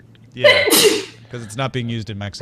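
A single sharp, loud sneeze bursts out near the start, then people carry on talking.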